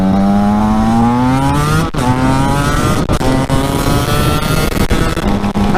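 A motorcycle accelerates hard on a rainy road, engine pitch climbing steadily through several gear changes with brief dips between them, loud and close throughout.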